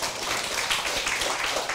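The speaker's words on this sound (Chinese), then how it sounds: "我们大家以热烈的掌声欢迎他" Audience applause welcoming a professor to the lecture hall, a steady, dense wash of clapping from a roomful of people that holds evenly through the whole moment.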